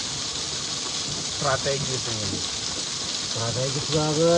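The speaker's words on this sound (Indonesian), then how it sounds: "Ini bisa didengar-dengar suara airnya gemericik" A babbling river runs beside a forest campsite near a waterfall, its constant hissing gush filling the background while someone talks over it.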